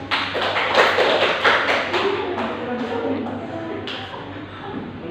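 A class of students claps for a classmate after a correct answer, a brief burst of close, uneven hand claps that fades out over a few seconds, with soft shuffling and faint voices underneath.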